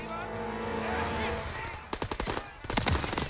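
Rapid bursts of gunfire from a World War II shooter game, a dense cluster of sharp shots late in the sequence following a steadier mechanical din.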